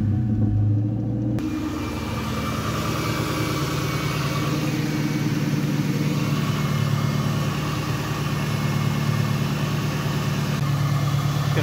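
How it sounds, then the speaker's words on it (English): A Ford Terminator Cobra converted to run on E85 fires up after a short cranking burst, then settles into a steady, deep, loud idle rumble that continues close by without talk. "Start the car."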